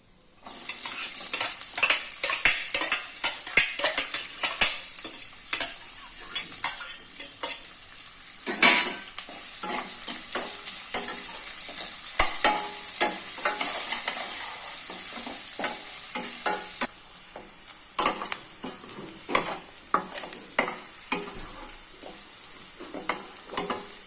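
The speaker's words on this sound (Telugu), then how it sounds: "ఇప్పుడు ఎర్రగయ్యాక ఇప్పుడు ఉల్లిగడ్డ ఆనియన్స్ వేసుకుంటామండి" Onions frying in oil in a pan while being stirred: a continuous close sizzle with repeated scraping clinks of a spoon against the pan throughout.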